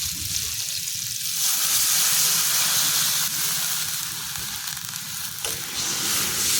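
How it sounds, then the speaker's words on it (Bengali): Pineapple chutney ingredients fry in a pan, giving a loud, continuous sizzle with occasional stirring scrapes and no talking. "ভালো করে ভেজে নেব।"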